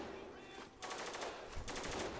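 Automatic gunfire in the video game Spec Ops The Line, two fast rattling bursts over a constant background of game noise, fairly faint and without talk.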